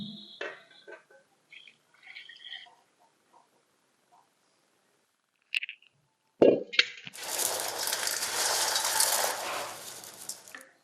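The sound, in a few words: straining dissolved jaggery syrup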